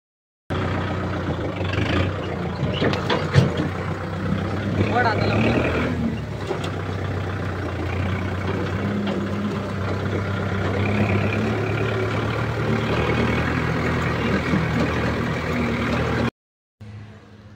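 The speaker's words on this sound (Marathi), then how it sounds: "ट्रॅक्टर आणून उभं केलं इथे।" A Kubota tractor idles and runs nearby at a roadside tomato market, with a steady continuous engine drone alongside vehicle noise and background chatter. The sound cuts off abruptly near the end.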